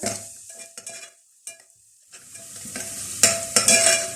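Spices sizzle in a hot pan with onions for chicken shami kebab, with occasional stirring scrapes and clinks, steady and close, with no voices.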